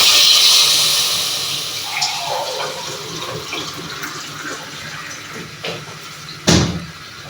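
About a cup of water poured onto two cups of sugar in a pan for jalebi syrup: a loud, close rushing pour that tapers into softer trickles, then a brief clink near the end, with no talking.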